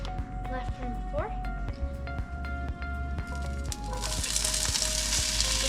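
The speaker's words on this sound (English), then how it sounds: "Listen to that sizzle." Food sizzles and crackles in a hot frying pan, a steady hiss with scattered pops and clinks, swelling louder toward the end.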